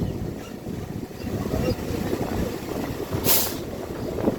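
A Krishnanagar–Sealdah local train slowly runs into Titagarh station, a steady close rumble with wind buffeting the microphone throughout and a brief brighter hiss near the end.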